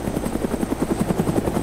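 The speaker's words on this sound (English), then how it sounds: "Now this may not be a stunt chopper, but it can do some pretty decent stunts." A helicopter flying in the video game DayZ makes a loud, close, rhythmic rotor chop with fast, even beats throughout the short burst.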